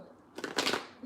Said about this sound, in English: You want to see me shuffle the cards?